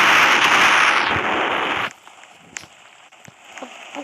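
A C4 charge blowing open a safe in a video game: a loud, dense roaring blast that holds for nearly two seconds, then cuts off to a quiet tail of scattered small clicks and debris.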